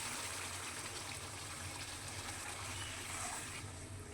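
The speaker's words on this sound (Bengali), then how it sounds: "1 কাপ মতো গরম জল দিয়ে দেবো" Hot water pours steadily into a pan of garlic chicken gravy, making a continuous soft gushing flow that stays even and fairly quiet, with no voices.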